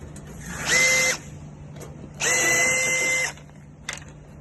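A power drill backs screws out of the back panel of a FibroPool FH120/FH220 pool heat pump in two close whirring bursts, the second longer, with a brief clink of a loosened screw afterward.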